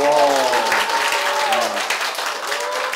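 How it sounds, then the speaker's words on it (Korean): Brief burst of clapping from an audience at a Buddhist dharma talk, a close, lively patter lasting a few seconds, with a monk's voice speaking over it. "이거 박수를 왜 쳐요 이거?"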